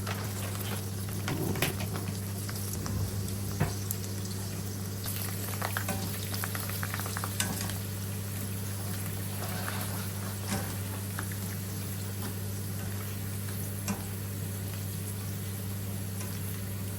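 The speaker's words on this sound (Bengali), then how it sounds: "আর দেখতে পারটা যে সুন্দর লাগে ফুচকা এখন ফ্রাই করতে" Fuchka puris frying in hot oil at home, a soft continuous sizzle and bubbling with occasional light pops over a steady low kitchen hum, no talk.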